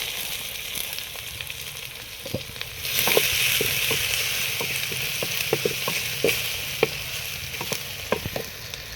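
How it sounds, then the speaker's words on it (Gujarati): Garlic paste, onion and chillies fry in a pan with a continuous sizzle that swells about a third of the way in, while scattered clicks and scrapes of stirring punctuate it. "પછી એમાં આપણે ડુંગળી અને મરચાં નાખી દઈએ"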